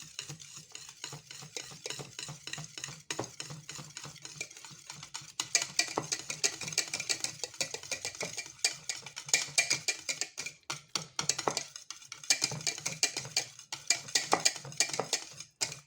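A spoon mixing cream pâtissière in a bowl, close and busy, with rapid uneven scraping and tapping strokes that pause briefly and then pick up again harder, no voices.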